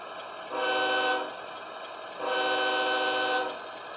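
A model train engine from an Athearn set sounds two sustained horn blasts, each about a second long and separated by a pause, over a quiet running hum, with no voices.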